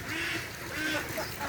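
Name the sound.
ducks quacking at their new pool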